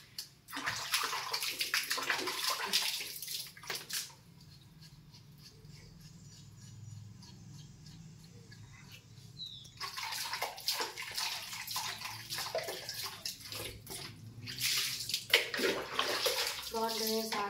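Water splashes and sloshes while someone bathes at home, bursts of close splashing alternating with quieter stretches under a low, steady background.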